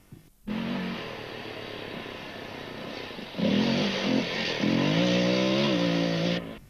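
An Armstrong 500 off-road motorcycle at a rally blares with a steady engine drone, then revs harder and climbs in pitch as it pulls away, loud and fairly near before cutting off.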